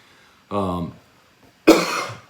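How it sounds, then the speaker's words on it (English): Two separate dry coughs, close and loud, the second harsher and more explosive, with a brief pause between them. "Anybody else having a dry cough?"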